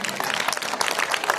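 Dense applause from a crowd at a Republic Day celebration, for children's stage performances, steady rapid clapping throughout, fairly loud and close.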